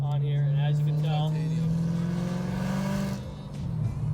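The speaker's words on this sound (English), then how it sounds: "There's a full F1 system, Initech exhaust on here, and as you can tell," A BMW E92 M3 with its V8 and aftermarket full exhaust revs up close, a loud rising engine note that holds and then drops away as the throttle is released.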